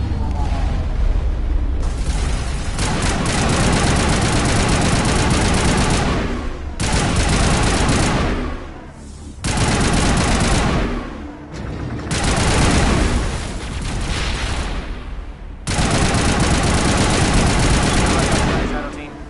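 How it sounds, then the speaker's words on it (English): Rapid automatic gunfire in Mass Effect Legendary Edition, aimed at incoming rockets, comes in long dense loud bursts with short gaps between them, carrying booming explosions. "I'm just gonna just like shoot the rockets that are coming at me."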